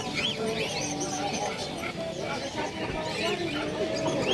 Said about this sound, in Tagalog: Siyempre mga ibon.